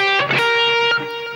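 A short, loud phrase on distorted electric guitar from a solo: a couple of quick picked notes, then one sustained ringing note played alone with no voices.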